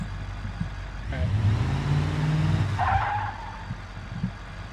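A car passes outside, its engine rumble rising, holding for a couple of seconds, then fading as it moves away, heard from indoors at moderate distance.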